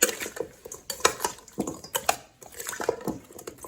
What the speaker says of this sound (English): I'm gonna give it a quick stir so all the seasoning can get on the shrimp